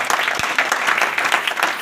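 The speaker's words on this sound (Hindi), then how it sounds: "मैं चाहूंगा भाई साहब के लिए एक जोरदार ताली होनी चाहिए" An audience at a business program in a hotel in Varanasi breaks into loud, dense applause for a man among them, sustained clapping throughout.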